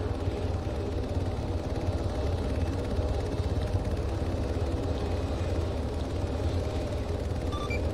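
A helicopter in a search and rescue video game produces a constant low rotor and engine drone, steady and unbroken at moderate loudness, with no speech over it.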